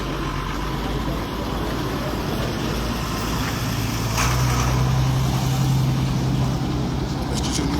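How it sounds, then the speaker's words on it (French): Heavy trucks rumbling through a crossroads in an industrial zone, a loud continuous low engine roar that swells midway as a big vehicle passes close by. "comme on est dans une zone industrielle, il y a beaucoup de camions qui passent ici"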